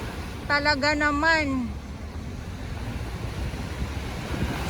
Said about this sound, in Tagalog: malakas na alon, malakas na hangin ngayong araw